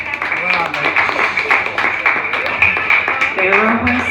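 Audience applause at an open-mic comedy and music night in Wodonga, a steady wash of clapping holding for about four seconds with voices murmuring underneath.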